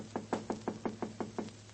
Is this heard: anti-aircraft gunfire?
no